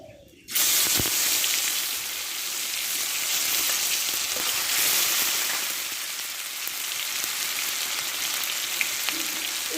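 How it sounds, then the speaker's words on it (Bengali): Pointed gourd (potol) pieces drop into hot oil with fried green chilli, setting off a loud, steady, close sizzle and hiss of frying that continues without talk. "দেখো লঙ্কাটা ভাজা হয়ে গেছে আমি এবার পটল একটু দিয়ে দেবো"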